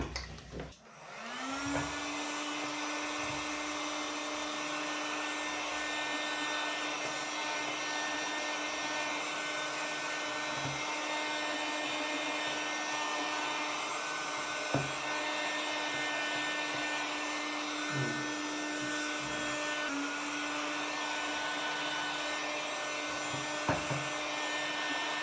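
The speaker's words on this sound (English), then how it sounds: "I will use a heat gun for the rails, but not for the carriage" A heat gun blows steadily on linear rails during a Voron v2.4 3D printer build, giving a continuous, even whir with a steady tone that runs the whole time, broken only by a few faint knocks.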